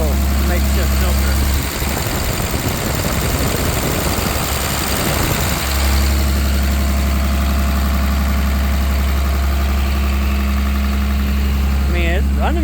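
A welding truck's engine, suspected of a cracked piston ring, idles steadily on PTO with a constant low rumble throughout. A burst of clattering mechanical noise comes in the first seconds, and a voice speaks faintly underneath.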